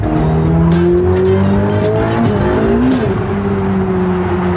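A sports car's tires spin and squeal loudly and continuously under a droning engine, close by and with no talk.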